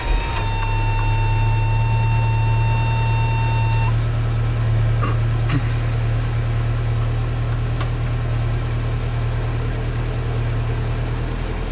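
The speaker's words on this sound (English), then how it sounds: "So this is what it sounds like inside the cab when I start the truck." From inside the cab of a 1982 Dodge D50 truck, the engine settles into a loud, steady idle, with a high electronic chime sounding for the first few seconds before it stops.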